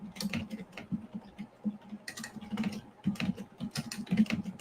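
Fingers typing on a computer keyboard during a podcast livestream, quick irregular bursts of clicking keystrokes, close and fairly soft, with no speech over them.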